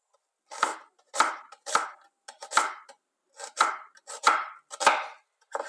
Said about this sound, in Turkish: Soğanımı da ortadan 2'ye bölüp jülyen bir şekilde doğruyorum.